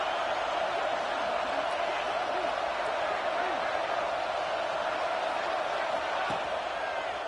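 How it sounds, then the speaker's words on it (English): Dense football stadium crowd noise at a college game against MSU, a steady loud roar filling the whole clip with scattered cheers and whoops rising out of it. "this crowd is fired up. Listen to this noise here."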